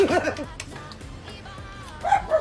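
A dog barks and yips a few times nearby, with short sharp calls at the start and near the end and quieter moments between.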